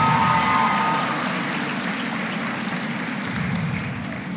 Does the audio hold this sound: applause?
yes